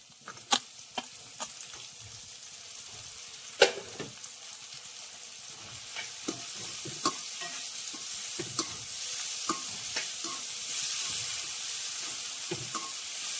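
Finely cut tomatoes frying with ginger and onion for an Andhra-style boti curry, a continuous soft sizzle broken by repeated sharp spoon scrapes and taps against the pan.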